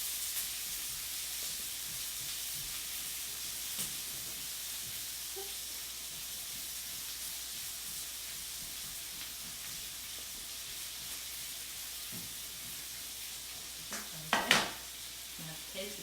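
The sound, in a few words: onions caramelizing in bacon fat, sizzling and stirred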